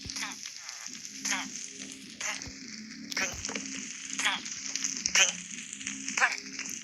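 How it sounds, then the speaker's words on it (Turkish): Fire in the Minecraft video game burns with a steady sizzling crackle, punctuated by louder pops and bursts, while voices occasionally murmur underneath. "Yangın çıkmış."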